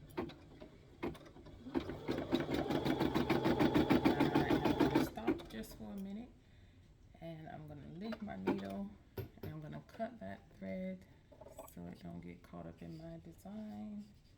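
A Brother SE630 embroidery and sewing machine stitching a design, its rapid rhythmic mechanical whir running steadily for a few seconds before stopping, then someone speaking over quieter handling sounds.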